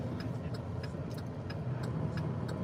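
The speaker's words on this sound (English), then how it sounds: "There's a lot of traffic out here on this road today." Steady road traffic rumbles along a busy road with cars rolling past, a continuous near, moderately loud drone with faint ticking clicks on top and no clear voice.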